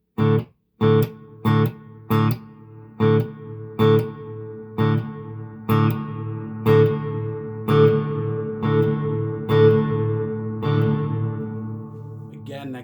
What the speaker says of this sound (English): the classic Fender spring reverb